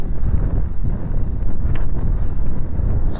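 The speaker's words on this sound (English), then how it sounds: "Fighting the wind." Strong wind buffets the microphone outdoors during a toy quadcopter flight, a continuous loud rumbling gusty roar with no voices.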